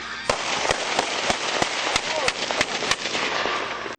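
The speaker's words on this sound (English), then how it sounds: "It's literally just a flashbang that goes off 9 times." A nine-bang flashbang goes off repeatedly in an enclosed area. Its sharp blasts land in a rapid, fairly even series of about nine bursts over loud, dense background noise.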